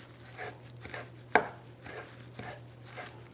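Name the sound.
knife dicing fresh parsley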